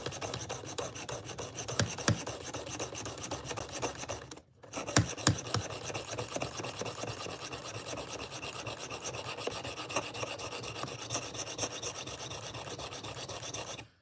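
A knife is sharpened with a continuous rasping, filing scrape that holds steady for most of the stretch, with one brief pause partway through and a few sharper strokes after it, fairly close and with no talk.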